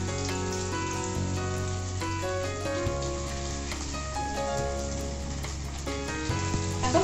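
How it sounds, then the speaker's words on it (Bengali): Chicken pieces fry in hot white oil in a kadai for restaurant-style chili chicken, a steady, dense crackling sizzle that stays loud throughout, without talk. "চিকেনটা আমি এবার ভেজে নেব, একটা একটা করে তেলে ছেড়ে দেবো।"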